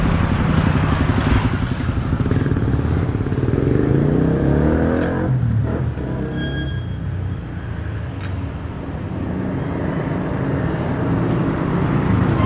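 A motorcycle engine runs loud and close, a continuous droning rumble with shifting pitch and some rattling, steady for the whole stretch with no voices.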